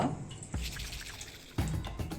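Water poured into a pan for a coconut pudding, a couple of short splashing bursts with dripping and trickling in between, close and moderately quiet.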